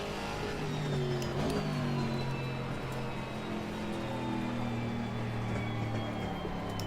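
GT4 race car engines in a sim racing game at the Paul Ricard circuit, a continuous loud engine drone with shifting pitch as nearby cars run alongside.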